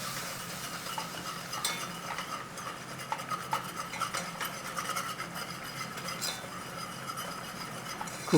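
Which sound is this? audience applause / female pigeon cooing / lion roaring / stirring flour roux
stirring flour roux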